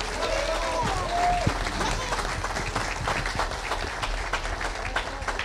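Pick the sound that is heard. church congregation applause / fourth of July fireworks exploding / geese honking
church congregation applause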